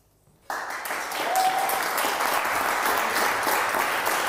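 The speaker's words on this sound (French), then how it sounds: "on peut applaudir, bravo à toi, bravo Guillaume" After a brief hush, an audience at a French-language talk breaks into sudden, steady applause that stays full and even, many hands clapping at once without a break.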